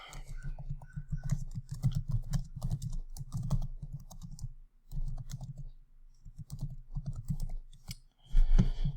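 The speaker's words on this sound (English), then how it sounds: "I typed out another sentence, great doc and open floor plan." Computer keyboard typing in quick bursts of close, crisp key clicks, pausing briefly in the middle before resuming, with a short louder clatter at the end.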